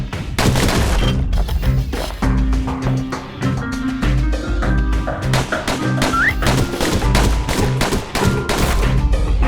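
Rapid pistol shots in the video game Bastion crack out in quick succession, fairly loud and close, mixed into a dense, busy musical soundtrack that plays throughout.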